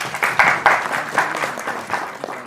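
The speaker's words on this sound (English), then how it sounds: "Let's have a huge round of applause for everyone." Scattered, uneven clapping rises and falls in bursts from a modest audience at an environmental project event, moderately loud and close, with individual claps standing out.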